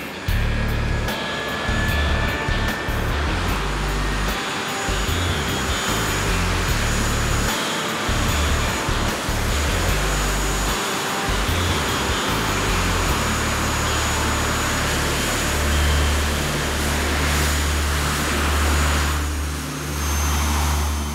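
Jet engines blasting at a taxi cab produce a loud, continuous roaring rush with heavy low rumble, sustained throughout at steady intensity with slight swells.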